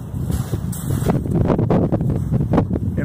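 Winter wind gusting through a hammock camp, buffeting the microphone in rough low rumbles and swells, loud and close, with some rustling.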